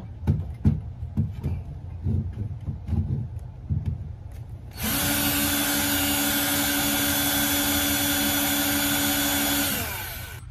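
A countersink drill bit bores into a hole: after several knocks and handling taps, a power drill whirs steadily for about five seconds at close range, then winds down.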